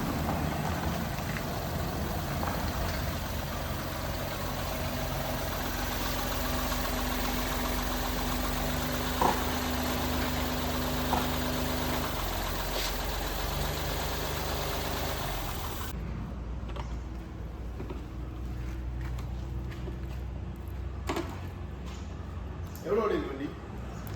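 A vehicle engine idles steadily as it is driven into a service bay, a low continuous rumble that shifts in tone partway through, with voices talking over it.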